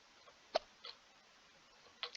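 A person hiccuping while playing Roblox Happy Runner, a few short, sharp, faint hiccups spaced irregularly in a quiet room.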